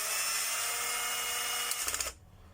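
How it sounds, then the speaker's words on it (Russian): A cordless screwdriver whines steadily while working on a vacuum cleaner motor, a loud continuous buzz ending in a few quick pulsing bursts before it cuts off. "хорошее дело шуруповерт"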